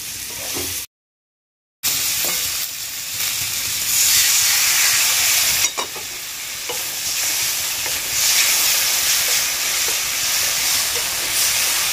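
Cauliflower florets sautéing in a pan for a cauliflower and chickpea dal, a steady close sizzle and hiss with stirring throughout and one brief break in the middle.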